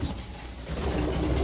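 Young, recently weaned pigeons coo in low, throaty, repeated murmurs close by, steady and unbroken with no voices over them.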